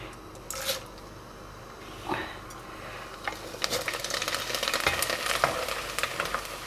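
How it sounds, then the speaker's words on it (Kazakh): Small pieces of Kazakh nomadic popcorn-style dough crackle and sizzle in hot oil, shaken and stirred in quick scraping bursts that grow denser toward the end. "Май қызып тұрса тез піседі. Тез қуырылады."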